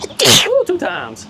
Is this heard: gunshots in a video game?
no